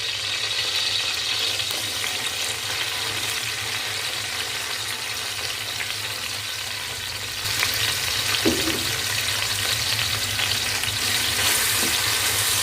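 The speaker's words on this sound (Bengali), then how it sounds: "পেঁয়াজটাকে একটু হালকা করে ভেজে নেব।" Onion sizzles steadily in hot oil with bay leaf, cinnamon and cardamom for a Saudi mandi pilaf, a close, continuous fry that brightens and grows louder partway through, with a brief stir and no talking.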